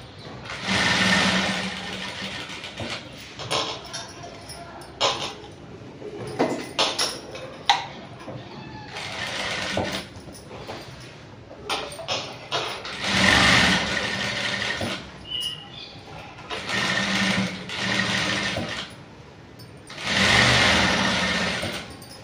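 A sewing machine stitches a princess cut blouse in repeated bursts of rapid mechanical whirring, separated by short pauses as the fabric is adjusted.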